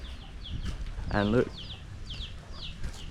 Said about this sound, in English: There's a big rooster there.